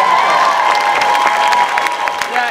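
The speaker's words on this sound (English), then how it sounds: "look at the booth back there and give them a round of applause" An audience at a school arts gala applauds and cheers for the booth crew, with dense clapping, whoops and shouts layered together, loud and sustained before easing slightly at the end.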